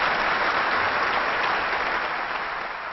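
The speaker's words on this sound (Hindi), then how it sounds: "उस फख्र का एहसास तालियों की इस गड़गड़ाहट से आसानी से किया जा सकता है।" Thunderous applause from a ceremony audience at a memorial event, dense and steady throughout, tapering slightly toward the end with no voices over it.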